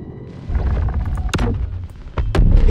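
Railguns fire in Star Citizen combat, heard as sharp, loud cracks with booming tails. Two main shots land a second apart over a rumbling backdrop of ship and weapon noise.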